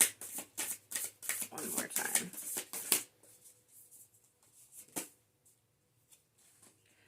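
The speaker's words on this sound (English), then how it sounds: "shuffle" Tarot cards are shuffled in quick, crisp riffling bursts for about three seconds, then a few softer, sparser shuffles follow while a person speaks.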